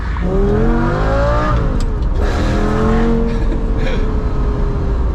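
A Lamborghini engine revs hard and loud as it is heard from inside the car. Its pitch climbs steeply through the gears, with brief dips at each shift, and it stays in the foreground the whole time.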